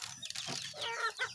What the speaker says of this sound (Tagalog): nakikita mo yung mga manok mo, kumakain sila at malulusog